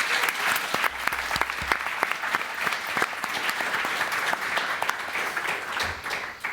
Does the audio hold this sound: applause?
yes